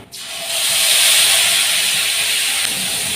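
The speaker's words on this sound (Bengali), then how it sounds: "এবার যে মশলার পেস্টটা বানিয়ে রেখেছিলাম সেই পেস্টটা দিয়ে দেবো" Ground spice paste dropped into hot mustard oil with fried nigella seeds for a raw hilsa curry, bursting into a loud, sustained hissing sizzle that settles into a steady close roar, no voices.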